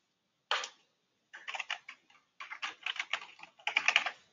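Rapid keystrokes on a computer keyboard entering an email address, coming in short clustered bursts separated by brief pauses, close and clear with no talking.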